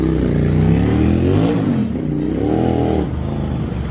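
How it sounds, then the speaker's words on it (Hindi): A Ducati 796 motorcycle engine revs up close and loud, rising and falling through a few throttle blips in the open air, with no voices. "तो डुकाटी हम लोग ने निकाले 796 डुकाटी। तो इसका साउंड आप लोग चेक करना है"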